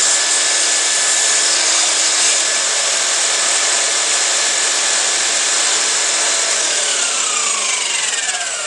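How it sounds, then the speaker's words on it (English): A belt sander grinds against a glass edge in a steady, loud, continuous whine with a harsh abrasive hiss, holding an even pitch close up with no speech. "because the belt is more flexible. Always try to sand both sides."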